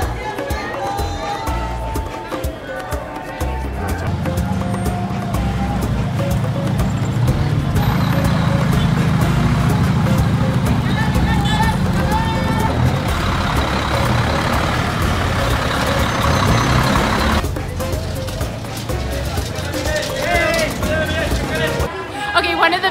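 Busy, loud Mexico City street noise with engines rumbling, traffic droning and a crowd murmuring, constant throughout with occasional louder passing vehicles.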